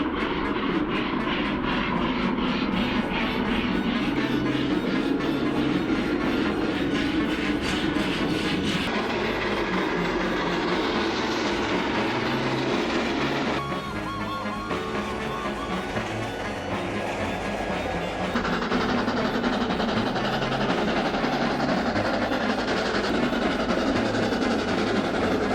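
An autumn steam train runs on the rails with a loud, continuous rumble and mechanical clatter that holds steady for the whole stretch, easing briefly midway before resuming.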